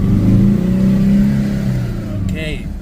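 Engine of a 2013 Nissan Navara with a P0089 fuel pump fault and loss of power, revving steadily while driving, a loud close drone whose pitch climbs and then eases.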